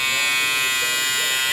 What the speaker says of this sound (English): Let me turn the older one on first.